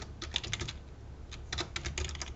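Someone types on a computer keyboard in two quick bursts of close, crisp key clicks separated by a short pause, with no talking.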